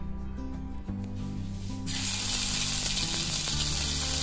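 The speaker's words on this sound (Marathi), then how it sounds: "आता आलं लसूण पेस्ट टाकूया" Ginger garlic paste hits hot oil in a pan, bursting into a loud, sustained sizzle about two seconds in and frying steadily to the end, with occasional scrapes and clinks.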